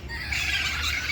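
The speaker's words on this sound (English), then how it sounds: "You can hear the parrots interrupting me" A loud, continuous run of harsh parrot squeals and squawks fills a South Miami park, carrying over steady background noise for the whole moment.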